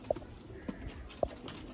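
Breeder pigeons cooing in a loft, three short throaty coos spaced about half a second apart, close and fairly soft over a quiet background.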